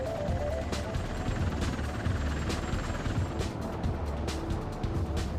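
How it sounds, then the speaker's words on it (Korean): A steady, heavy roar of V-22 Osprey tiltrotor aircraft rotors, continuous and fairly loud, with faint rhythmic thumping. "오스프리의 틸트 회전 날개는 이륙 시 헬리콥터처럼 수직 방향 양력을 만들어내고"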